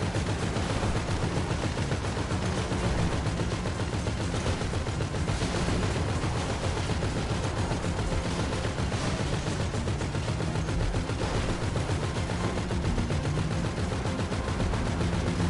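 Dense, continuous gunfire from a PS4 video game, with rapid bursts and volleys sustained at a steady loud level throughout, no talk.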